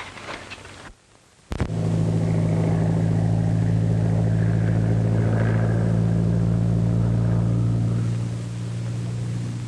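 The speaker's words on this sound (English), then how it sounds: "It's a plane." Patrol plane flying overhead, a loud steady drone with strong low tones that swells in abruptly after a brief quiet gap and then holds nearly constant, easing slightly toward the end.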